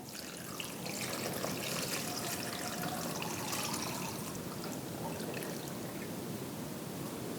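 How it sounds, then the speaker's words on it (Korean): Prepared broth pours steadily into a kimchi container holding napa cabbage for water kimchi, a continuous close trickling stream lasting several seconds, with no talking. "김치통에 넣고요. 만들어 놓은 국물을 부어줍니다."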